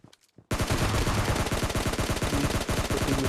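Gunfire in PUBG Mobile Lite: after a few faint sounds, a sudden loud burst of rapid automatic shots rattles on continuously, close and sharp, for nearly three seconds.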